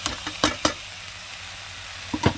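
Chili and turmeric powder frying in a hot pan, with a few sharp stirring scrapes and bursts of sizzle standing out over a quieter steady hiss, close and fairly loud.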